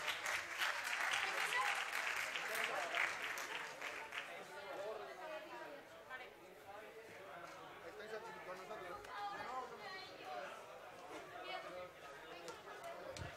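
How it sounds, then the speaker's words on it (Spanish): An audience at a FIRST LEGO League robot game competition applauds loudly and then settles into crowd chatter and murmuring voices with scattered movement for the rest of the stretch. "Un aplauso para ellos."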